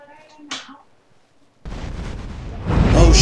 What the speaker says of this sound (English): Shit, explosions!